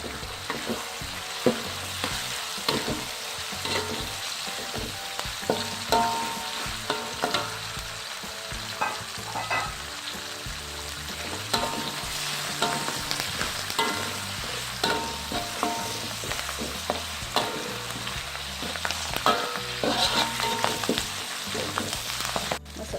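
Leaves crackle and fry in a hot pan for Padang-style green chili chicken, being stirred with scraping and tossing sounds over a continuous sizzle.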